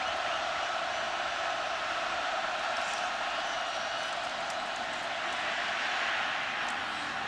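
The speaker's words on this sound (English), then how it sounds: "Listen to this crowd." A packed college football stadium crowd at a Wisconsin versus Penn State Big Ten game roars in a continuous, broad wash of noise, distant and steady, with a commentator's voice faintly underneath.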